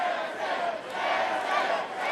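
Crowd at a live Vancouver Island wrestling show, a dense sustained roar of cheering and shouting that holds steady without pause throughout.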